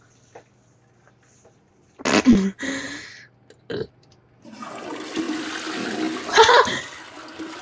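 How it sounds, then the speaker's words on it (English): A toilet flushes in the video game Bendy and the Dark Revival: a few short clunks and splashes, then a loud rushing swirl of water that builds and drains, heard alone at close range. "You actually flushed the toilet."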